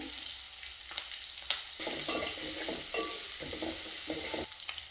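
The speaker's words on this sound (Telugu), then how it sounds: "సన్నగా తరిగిన ఉల్లిగడ్డ, ఇవన్నీ తాలింపులో ఫ్రై చేసుకోవాలి." Dried red chillies, green chillies and finely chopped onion fry in a tempering with peanuts and chana dal, giving a continuous close sizzle broken by repeated scraping stirs of a spoon against the pan.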